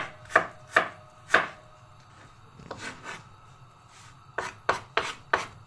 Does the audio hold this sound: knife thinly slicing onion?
yes